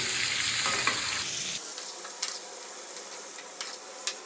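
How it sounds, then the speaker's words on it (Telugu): Masala-coated brinjal (vankaya) frying in hot oil for a Rayalaseema curry, a steady close sizzle that turns finer and quieter partway through, with a few light stirring clinks near the end. "బాగా వేడెక్కినాక మసాలా పట్టించిన వంకాయ వేసుకోవాలి"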